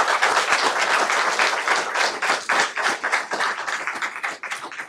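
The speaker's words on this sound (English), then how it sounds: "They really deserve a big round of applause." People at a school board meeting applaud, a lively round of many hands clapping close by that gradually loosens into more separate claps.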